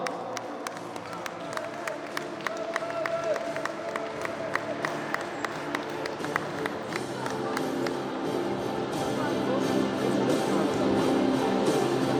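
Crowd applause for the winning youth football team at a tournament closing ceremony, with steady rapid clapping that swells slightly toward the end and continues unbroken throughout.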